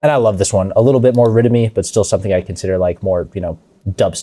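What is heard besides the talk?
None of the usual background noises is heard.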